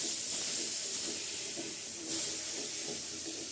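Bata fish frying in hot oil in a pan, heard as a steady, dense hiss and sizzle that holds at an even level and stays close.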